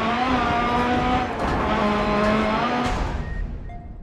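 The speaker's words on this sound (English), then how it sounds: "Wow, that car is ferocious." Rally car engine in the Dirt Rally racing game roars loudly and continuously, revving up and down with bright harmonic whine and gear shifts, briefly easing near the end.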